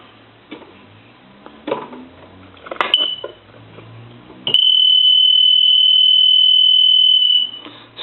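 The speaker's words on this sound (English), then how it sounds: "kind of show you how loud this telephone really is on a ring." A piano telephone rings loudly and shrilly: a continuous piercing electronic tone lasting about three seconds, following quieter handling noise and clunks of the handset nearby.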